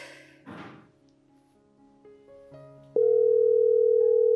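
A telephone dial tone begins abruptly and holds steady and loud after a few soft thumps and handling noises while a call is placed in an Ethiopian drama.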